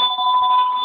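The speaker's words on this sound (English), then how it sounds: "Fucking phone." A telephone rings with a steady, continuous electronic tone, loud and close, filling the whole moment with no voices over it.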